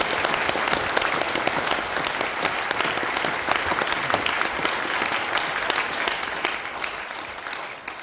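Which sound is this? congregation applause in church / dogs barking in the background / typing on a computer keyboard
congregation applause in church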